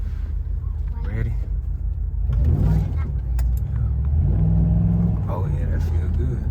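Chevrolet Impala SS fitted with a K&N cold air intake accelerates from inside the cabin, a steady low engine rumble swelling as throttle is applied, with people talking over it.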